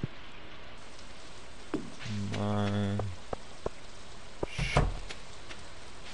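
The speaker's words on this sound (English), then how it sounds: "it's still a rainy day." Steady rain falling in the farming video game Stardew Valley, a soft even patter throughout, with a short tonal buzz and a few sharp clicks from the game layered on top.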